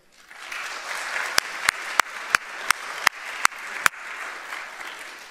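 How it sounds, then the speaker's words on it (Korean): A church congregation claps together, the applause swelling quickly, punctuated by a series of sharp, evenly spaced loud claps before gradually fading. "크게 한번 박수합시다."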